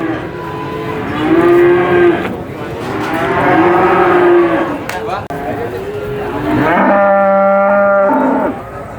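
Cattle low repeatedly at the Purwantoro cattle market in Wonogiri, Central Java, several loud nearby moos overlapping under a steady hubbub of market chatter and people talking.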